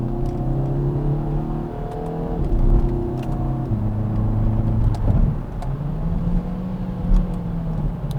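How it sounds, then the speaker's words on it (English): A 2020 Kia Forte 5 GT compact hatchback accelerates hard in sport mode, its engine note rising in steady sweeps and dropping with each quick gear change, heard from inside the cabin with no talk over it. "It's shifting pretty precisely and quickly."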